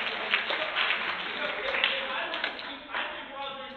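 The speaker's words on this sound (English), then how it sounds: "Clap if you believe dream work makes the team work" Audience clapping at a comedy charity show, a steady spread of many hands applauding under a speaking voice, moderately loud and continuous with scattered sharper claps.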